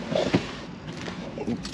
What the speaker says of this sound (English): Grab my keys real quick.